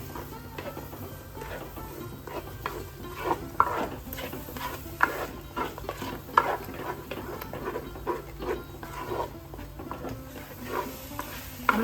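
A spoon stirs coconut-based fish curry masala in a pan: steady scraping strokes over a soft, continuous sizzle, close and fairly loud with no voices.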